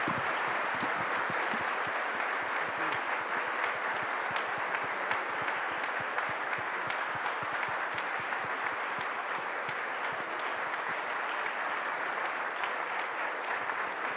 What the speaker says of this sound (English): let's give him a huge applause